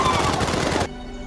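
Rapid burst of gunfire, dense and loud, in a short volley that cuts off abruptly after under a second.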